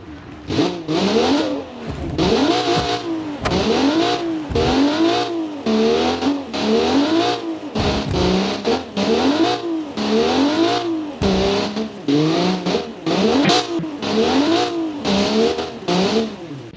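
A rear-wheel-drive ute's engine revs again and again in rapid bursts while stuck in mud in the game BeamNG, pitch sweeping up and down with brief cutoffs, loud and continuous, with no talking.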